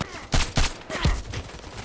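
Gunshots in a shooter video game, three sharp close reports about a quarter second apart, followed by a softer fourth shot and fading echoes.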